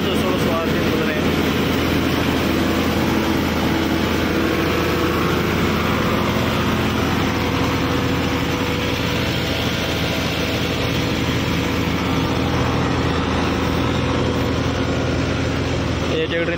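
A Kubota MU5502 50 HP tractor engine powers a new thresher at around 1500–1600 RPM, a loud, dense mechanical drone that holds steady for the whole stretch.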